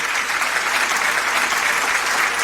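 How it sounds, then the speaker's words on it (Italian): A studio audience on an Italian radio and TV music show breaks into steady, dense applause to welcome a guest onstage, an even wash of clapping that holds at the same level throughout with no voices on top. "Facciamo un forte applauso!"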